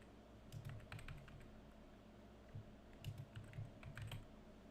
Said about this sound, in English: I can't really see what I'm typing